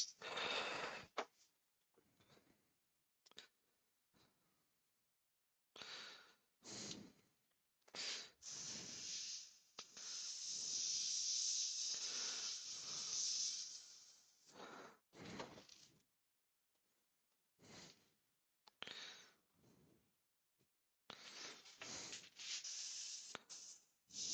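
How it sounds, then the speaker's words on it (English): Airbrush spraying finish onto a woodturning piece, heard as close hissing bursts of varied length, from brief puffs to one long steady spray, separated by silent gaps, with no talking. "that's better, using an airbrush"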